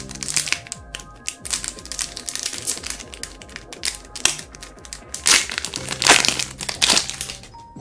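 A Star Wars trading card booster pack from Leclerc being torn open close up, with loud crinkling and crumpling foil wrapper, taps and rustles that build into denser tearing bursts toward the end.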